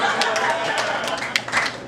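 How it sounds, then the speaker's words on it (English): An audience at a stand-up comedy show claps in scattered, uneven bursts of hand claps, fairly close, with a voice talking over part of it. "You better clap it up"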